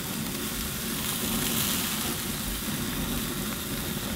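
Bear meat burgers sizzle steadily on a cooking surface at an off-grid family camp, a close, continuous crackling hiss without pause.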